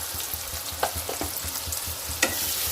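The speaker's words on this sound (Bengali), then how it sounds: "ভালো করে আমি মশলাটাকে কষে নেব।" Masala of chopped tomato, turmeric, chilli and cumin powder fried and stirred for a mushroom matar curry: a continuous hissing sizzle with rhythmic stirring strokes and an occasional clink, close and alone.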